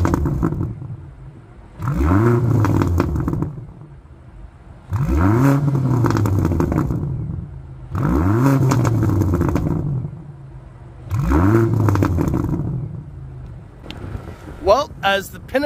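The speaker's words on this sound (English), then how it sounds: "let's get a chance to hear what it sounds like" A 2023 BMW XM SUV engine revs hard four times in a steady rhythm, each roar climbing and falling back to idle, loud and close outdoors with brief pauses between bursts.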